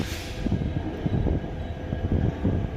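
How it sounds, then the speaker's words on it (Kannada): A diesel train locomotive runs nearby with a deep, continuous rumble and rhythmic low throbbing, heard from on board during a rail journey with no talk. "ಡೀಸೆಲ್ ಇಂಜಿನ್ ಆಗಿರುತ್ತೆ ಇದು."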